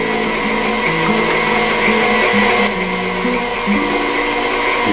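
An electric mixer runs loud and close through pumpkin bread batter, a steady motor whine whose pitch steps up and down as the beaters work, with no talking.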